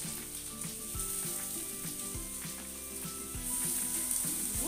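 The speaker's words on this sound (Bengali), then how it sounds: "এবারে আলুগুলো দিয়ে ভেজে নেব" Boiled potatoes frying in oil with chopped onion and tomato give a continuous close sizzle under a quiet tonal musical backing.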